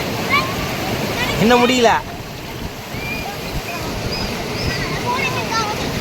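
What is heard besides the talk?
rushing water of the overflowing Veppur stream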